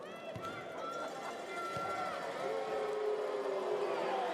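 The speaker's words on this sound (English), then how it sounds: "And you can hear the crowd getting involved." Crowd at a women's professional basketball game growing louder during a free throw, a broad murmur and rising calls filling the arena at moderate distance, with sneaker squeaks and faint voices mixed in.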